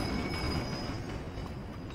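A train in the PS2 game The Warriors, a short burst of rumbling rail noise with a thin, high metallic squeal running over it, steady and fairly close throughout.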